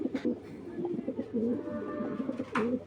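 A male pigeon, with a female nearby, coos repeatedly in low, rolling phrases, several soft calls in a row, fairly close, with faint background noise between them.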